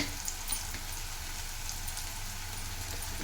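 Fenugreek leaves frying in hot oil in a pan, a steady close sizzle with a broad hiss running evenly throughout and no talk.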